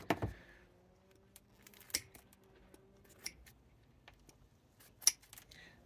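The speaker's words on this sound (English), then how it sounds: "I'm going to try and cut all this off here" Scissors snip through the roots of a hibiscus bonsai, a handful of sharp, close cuts spaced irregularly over several seconds, with quiet rustling between them and no talk.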